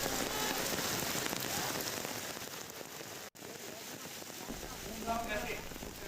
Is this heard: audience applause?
no